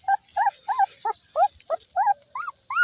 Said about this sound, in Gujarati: કેટલા મસ્ત કૂતરા છે